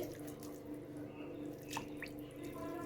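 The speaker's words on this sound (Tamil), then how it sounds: "சிக்கன் எடுத்து நல்லா தண்ணியில் போட்டு" Water splashes and drips close by as chicken pieces are rinsed by hand in a bowl, a continuous wet sloshing.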